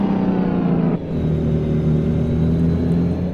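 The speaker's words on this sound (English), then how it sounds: "I got the engine braking on there." Big rig engine braking in American Truck Simulator, a steady loud low rumble with a brief dip near the start, then a continuous droning engine tone with no talk.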